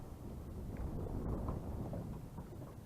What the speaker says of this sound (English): The wind is tough